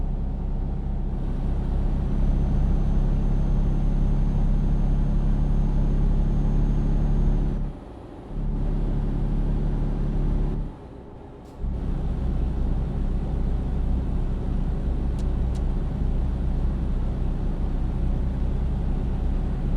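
An intercity bus on the Bursa–Çanakkale route in a snowy winter mode of a bus simulator game hums with a steady, close engine drone, broken by two brief cuts near the middle.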